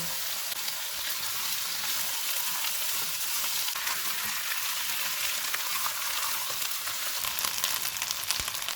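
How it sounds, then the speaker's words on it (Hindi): Steady, dense sizzling of about a kilo of chicken frying in a hot pan over full heat, continuous and fairly loud throughout with no pauses. "चूल्हे को फुल करके इसको 4 से 5 मिनट तक भूनेंगे।"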